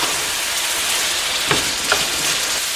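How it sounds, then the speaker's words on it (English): Honey garlic steak bites simmer in thickening sauce in a skillet, giving a steady close broadband sizzle with two brief clicks of a utensil. "we're just letting that sauce kind of thicken up in our skillet and create a nice coating for"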